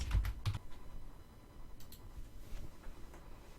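Faint computer keyboard typing, a few soft scattered key taps over a low background hush.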